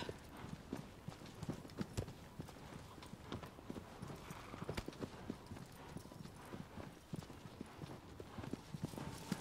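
Horse hooves clop in a steady, brisk rhythm while riding across open ground in Shadow of the Colossus, played fairly quietly and continuously with a faint background wash and no talking.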